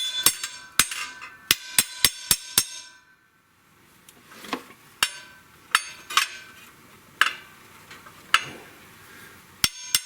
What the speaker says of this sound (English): Use my ratcheting hammer.